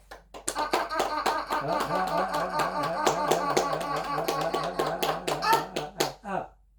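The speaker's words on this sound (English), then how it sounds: "Slap the tops of your knees. Clap your hands." Rhythmic slaps on the tops of the knees and hand claps during a guided body exercise, a quick steady run of sharp smacks sitting under a continuous talking voice.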